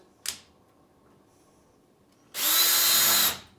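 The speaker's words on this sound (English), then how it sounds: "Make sure your drill's going forwards." A sharp click, then a power drill whirs steadily for about a second, driving screws into a large storage shelving unit, before stopping, close and loud.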